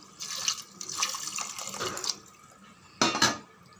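Water pours and splashes into a pot for sambar in a few short bursts, with a brief pause before a final splash, close by.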